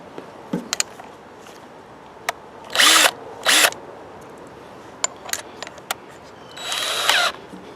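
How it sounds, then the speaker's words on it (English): A power drill fitted with a Forstner bit whirs in short bursts, with two close spurts near the middle and a longer run near the end, separated by clicks and quiet handling noises. "for this one we're going to put our Forstner bit in."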